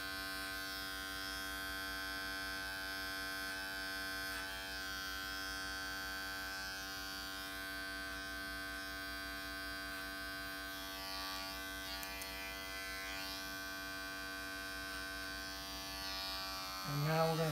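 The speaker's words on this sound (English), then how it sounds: "we're going to close the clipper down all the way and complete that semi-finish" An electric hair clipper hums continuously through a haircut, a steady close buzz with rich overtones that holds level for a long stretch and rises briefly near the end, with no talk over it.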